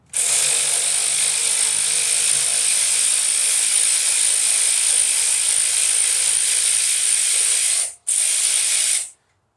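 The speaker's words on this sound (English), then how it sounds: "Okay, put all the bolts back in the timing cover." A hand ratchet rapidly clicks while tightening 10 mm timing cover bolts on an LS 5.3 engine, a loud continuous buzzing run of pawl clicks with one brief pause before the final burst.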